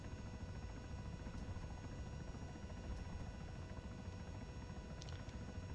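CH-67 Huron tandem-rotor helicopter in ARMA 3, a dense continuous rotor drone and engine whine at steady volume throughout, heard from the cockpit while hovering near a concrete embankment.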